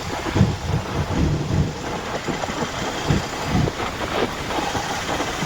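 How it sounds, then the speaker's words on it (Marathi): Heavy rain pours in Hyderabad in a steady, dense hiss, with a low engine-like rumble underneath throughout. "बघा मुसळधार असा पाऊस"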